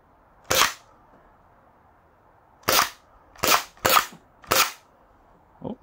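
A QWK Edge Nerf semi-auto foam dart blaster fires five sharp, snappy shots, spaced unevenly with the last three close together, loud and near against a quiet room.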